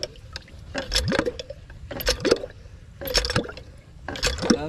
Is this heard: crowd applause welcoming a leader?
no